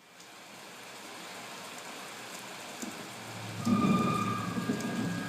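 Steady electronic slideshow rain sound hisses softly, swelling louder partway through with a low rumble and scattered drips, no voices.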